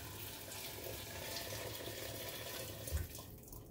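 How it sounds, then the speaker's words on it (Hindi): About two litres of hot water poured from a kettle into a cooking pot for frozen chicken gravy, a steady continuous splashing pour heard close and fairly quiet with no talking. "तो इसको सारा पानी इसमें डाल देना है"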